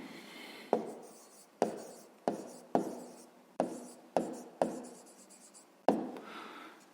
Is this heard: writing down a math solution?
yes